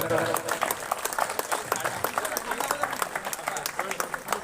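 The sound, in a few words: continuous applause from alumni gathering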